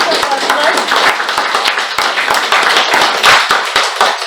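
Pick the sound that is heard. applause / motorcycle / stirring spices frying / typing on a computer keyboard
applause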